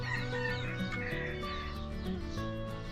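A rooster on a farmhouse homestead, heard amid clucking farmyard fowl with a harmonic crow-like call rising over steady background hens through the three seconds, fairly close and moderately loud.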